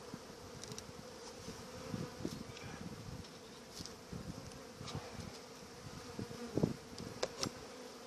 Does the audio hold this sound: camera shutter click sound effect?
no